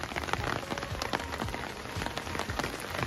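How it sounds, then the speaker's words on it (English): Rain pouring down at a very wet caravan club site, a dense, continuous patter of drops drumming on a nearby surface, steady throughout and heard alone. "it persists down with rain"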